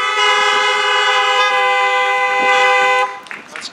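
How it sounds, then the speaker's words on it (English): Car horns honk in a long, loud sustained blast lasting about three seconds, then cut off into scattered noise, sounded by a parked audience at an outdoor drive-in church service. "If you agree with what I say and you want to say amen, just honk that horn."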